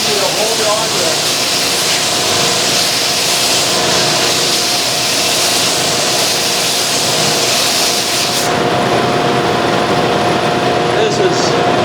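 A homemade belt sander runs steadily on a piece of wood such as a burl, its continuous motor whine and abrasive rubbing loud and close, with a slight change in tone near the end as the sanding continues.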